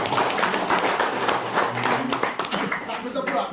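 Applause at a presentation in a room, a dense burst of clapping from a small audience with voices talking over it throughout.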